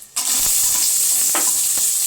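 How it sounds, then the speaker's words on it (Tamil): Onions hit hot oil in a pan already tempered with cinnamon and cloves for mutton kurma, an abrupt loud hiss that continues as a strong, steady close sizzle with a couple of soft stirring knocks and no speech. "இப்போ நம்ம வெங்காயத்தை போட்டுடலாம்."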